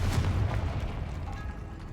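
A Confringo spell explodes in a video game, a loud, full-bodied boom that rumbles and fades over about two seconds.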